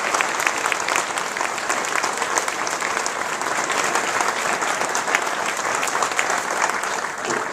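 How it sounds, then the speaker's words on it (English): Steady, dense applause fills an auditorium at a 2013 NASA Agency Awards ceremony, holding at an even level throughout without a break. "give a round of applause for Ron"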